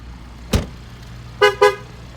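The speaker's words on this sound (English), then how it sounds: "So it's honking at me because I've got the key in my pocket" A 2020 Ford Explorer Limited sounds its horn three times as a key-left-inside warning: one short toot, a pause, then a quick double honk, loud and close.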